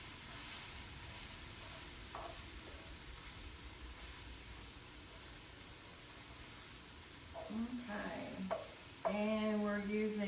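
Flour-coated beef sizzling and being stirred in a hot skillet, with a steady frying hiss throughout and scraping stirs toward the end as a voice speaks briefly.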